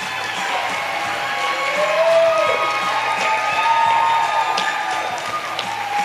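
An audience at a children's pageant crowning applauds and cheers, a steady wash of clapping and voices that swells slightly midway and holds without a break.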